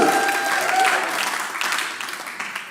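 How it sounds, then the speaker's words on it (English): Crowd applause at a stand-up comedy show, a steady dense clapping from a large audience that slowly thins out, with faint voices mixed in. "Don't clap too hard."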